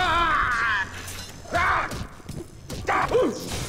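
Melee swings and hits from a wrench in the video game BioShock, with sharp, loud impact and shatter sounds mixed with creature cries in a busy game scene.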